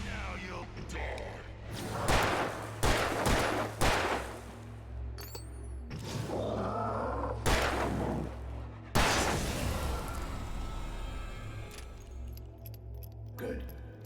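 Gunfire in the video game Alan Wake Remastered: several sharp, loud shots spaced irregularly, with whooshing effects and a dark ambient drone running underneath.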